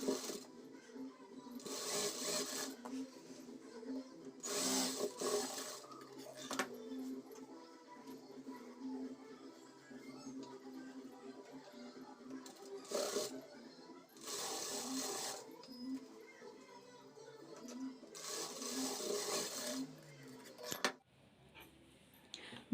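Sewing machine stitching the shoulder joint of a prince cut blouse; several short bursts of rapid mechanical whirring stitches, close and loud, separated by quieter pauses with faint handling noises.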